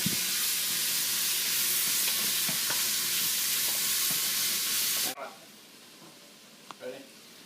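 Onions cooking down in a pot, a loud steady sizzling hiss with scraping stirs that cuts off abruptly partway through, followed by quieter room sound and a few soft knocks, with some talking.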